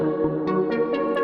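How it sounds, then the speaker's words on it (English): A synced phaser effect played solo over a steady sustained tone, with quick rhythmic sweeps pulsing through it several times in just over a second. "So by default, it loads up in a synced situation,"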